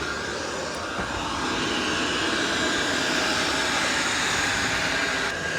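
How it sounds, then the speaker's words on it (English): Dreame L10S Ultra Gen 2 robot vacuum running on its quietest suction setting over a hardwood floor, a steady broadband whirring hum that stays constant and fairly loud throughout with no talking. "vacuuming this hardwood floor. And I do have it on the quietest suction power"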